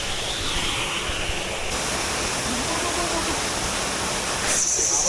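A small waterfall in the Konkan countryside pours in a steady, dense rush of falling water, close and continuous, with no voices over it.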